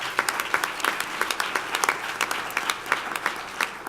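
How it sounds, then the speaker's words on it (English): Audience applause for honors graduates at a fall graduation recognition ceremony: a crowd claps steadily with distinct individual hand claps popping out above the continuous roar, moderately loud and without speech. "Give them an applause."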